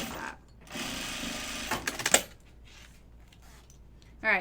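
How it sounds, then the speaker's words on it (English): A sewing machine runs in a short burst while stitching onto a bag pocket for a Zip Double pattern, ending with a few sharp clacks. A brief mechanical whir follows near the end, and no speech is heard. "and then I can just sew it on just like that"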